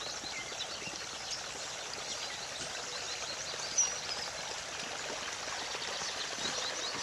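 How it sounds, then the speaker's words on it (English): Storm water runoff rushes along a roadside path between two properties, a steady broadband wash of turbulent flowing water holding at a constant moderate level throughout, with no talking. "hear the water as it becomes more turbulent."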